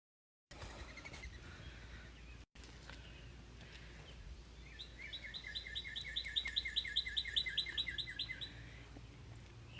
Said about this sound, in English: You hear that bird calling?